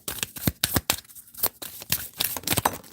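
A deck of playing cards is shuffled up close, a quick run of crisp riffling snaps and flutters in an uneven rhythm, with no speech.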